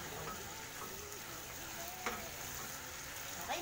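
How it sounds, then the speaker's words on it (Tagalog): A Korean chicken stew, dakbokkeumtang, stirred in a pot to blend in sesame oil, giving a steady close sizzle with soft scraping stir sounds and a couple of light clinks. "Then, halu-haluin lang natin siya para mag-mix lang yung sesame oil."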